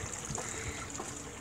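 A backyard water fountain trickles softly and continuously, a faint, steady splash with no voices over it.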